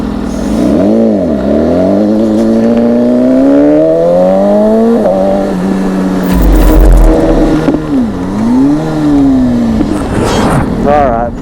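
A Porsche sports car drives and pulls over, its engine loud and close, rising and falling in pitch as it revs, shifts and slows, with someone talking over it throughout.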